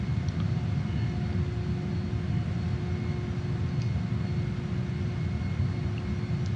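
A JAS-39 Gripen jet in Microsoft Flight throttles back to idle on a landing approach, its engine a steady, even drone with a faint whine layered on top, holding at a constant level throughout with no voices.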